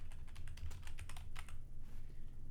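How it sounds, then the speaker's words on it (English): Steady keyboard typing on a computer while entering recipe ingredients into restaurant software, close and fairly quiet, with clustered keystrokes for about two seconds and then a brief pause. "we're going to type in what we see here."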